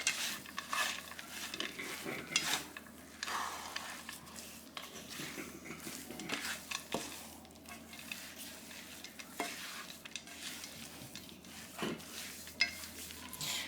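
Chocolate chip cookie dough being stirred by hand in a bowl, a steady run of thick scraping and sloshing strokes with light clinks of utensil against the bowl, close and continuous with no talking.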